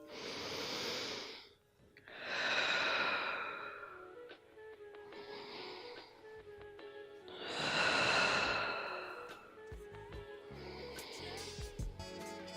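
Gentle, slow breaths during a breathing exercise, long soft airy inhales and exhales rising and fading in turn, close and quiet with no talking.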